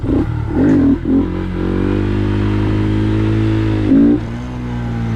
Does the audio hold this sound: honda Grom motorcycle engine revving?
yes